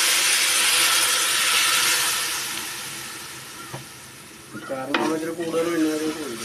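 Vinegar hisses and sizzles as it hits a hot pan while making beef pickle, fading gradually, then a utensil scrapes and stirs near the end.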